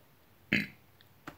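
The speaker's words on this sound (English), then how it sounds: "if you don't like to burp a lot, do not drink these sodas because you will be burping." A single loud burp after drinking a Sour Patch watermelon or blueberry soda, sharp and close, followed by a fainter short burp or gulp a moment later, then quiet.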